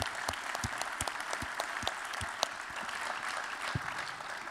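Applause from an audience at an annual plenary session, many hands clapping steadily at moderate volume with a few louder individual claps standing out, no talk over it.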